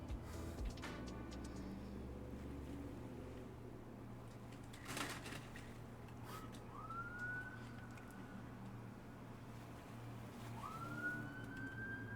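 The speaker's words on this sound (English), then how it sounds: "Loud truck noise, and then sirens, and then beep." A siren rises in two short upward sweeps, about four seconds apart, over steady low traffic rumble from a street, with a sharp bang in the middle.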